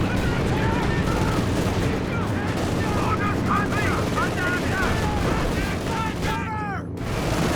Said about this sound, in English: Suppression from this base MG saving the day here.